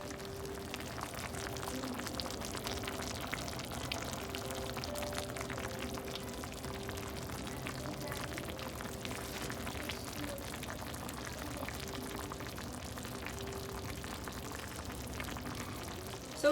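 A meatball and vegetable tagine sauce with potatoes, peas and mushrooms simmers on the stove, giving a steady, soft bubbling and sizzling hiss that stays even and close throughout, with no voices.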